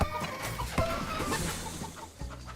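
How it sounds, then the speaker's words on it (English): Chickens clucking in the video game Diablo 4, a busy run of short squawks and clucks over steady game background noise, close and moderately loud. "I just killed that chicken"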